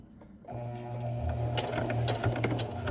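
Sewing machine stitching a Kakashi jonin vest, a steady motor whir with rapid needle chatter that starts after a short quiet moment and runs continuously, close and fairly loud with no talking.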